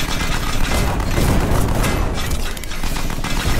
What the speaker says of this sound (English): at least I know that I can shoot the damn rockets